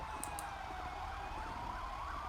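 Wailing ambulance siren in the video game GTA 5, faint and distant, rising and falling steadily with no talk.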